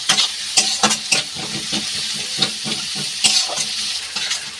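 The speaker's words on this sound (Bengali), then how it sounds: "পেঁয়াজটা আমি একটু লাল লাল করে ভেজে নেব।" Onions and green chillies fry in a pan with browned garlic, hissing and sizzling steadily while a spoon scrapes and clicks against the pan in repeated stirring strokes.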